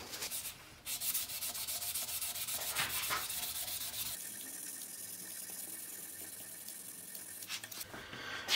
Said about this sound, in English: Sanding with 600 before I buff it on the buffing wheel.